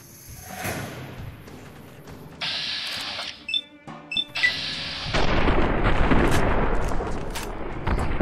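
Shotgun fire in the video game Fallout: New Vegas, with a loud blast and rumbling boom amid layered game effects, including a couple of brief chimes, then a long, dense roar of noise.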